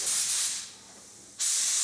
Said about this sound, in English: to spray the bottom section of the car in an off-white